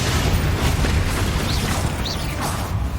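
A spell explosion in the Hogwarts Legacy video game, a loud, dense rumbling boom with crackling debris that sustains for about three seconds without a clear break.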